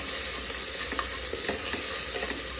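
Garlic sautéing in hot oil in a pan for chicken kurma gives a continuous, close sizzle with faint stirring touches, steady and unbroken, with no voices.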